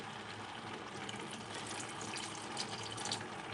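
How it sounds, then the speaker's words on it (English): Meat broth poured from a container into a pot of potato leaves for a Sierra Leone stew, a steady soft splashing pour running the whole time at low level, with no talk. "So now we're going to add a little bit of water. I'm going to use the water of the meat just a little bit."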